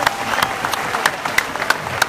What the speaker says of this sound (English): let's give Coach a mighty hand clap once again